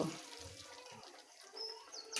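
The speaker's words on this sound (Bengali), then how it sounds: "এখন এর মধ্যে পানি অ্যাড করব" Water pours into a pan of braising chicken, a brief close splashing and trickling that is soft and short.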